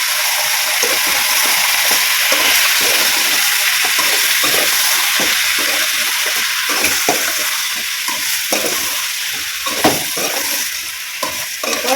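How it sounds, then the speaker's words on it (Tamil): Chicken curry with coconut and rock salt sautés in a pan, a loud steady sizzle with rapid rhythmic scraping strokes of a spoon throughout. "இப்போ நல்லா வதக்கிடுவோம்"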